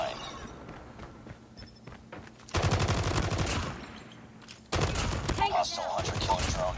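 Rapid automatic gunfire from a light machine gun in Call of Duty Mobile, loud sustained bursts in two long volleys with quieter in-game sounds between, no talking.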